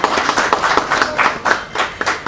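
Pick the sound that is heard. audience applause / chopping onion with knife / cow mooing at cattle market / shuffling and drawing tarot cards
audience applause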